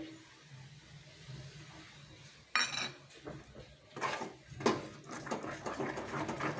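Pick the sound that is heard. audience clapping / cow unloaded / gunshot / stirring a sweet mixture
stirring a sweet mixture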